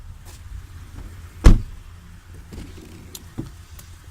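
A 2015 Lexus RX350 power liftgate closing by itself, a single loud thud as it shuts, followed by softer latch clicks, set against a quiet outdoor background.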